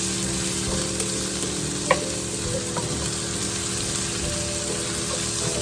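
Food browns in a pan with a constant, fairly loud close sizzle, one sharp clink near the two-second mark and a softer knock later.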